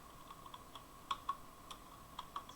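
Keystrokes on a computer keyboard while entering Python code, a sparse run of light clicks with a few sharper taps, close and quiet against a faint steady hum.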